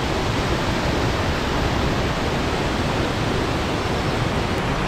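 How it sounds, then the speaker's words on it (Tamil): Jogini Falls waterfall near Manali pours down with a loud, steady broadband roar of rushing water, close and unbroken, with no voices over it. "finally we have reach Jogini falls"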